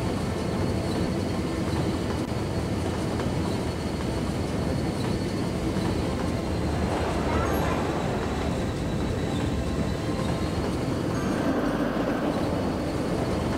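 A train running in the city-builder game Cities: Skylines gives a steady, broad rumble that hums on without pause for the whole stretch, with a faint whine riding above it.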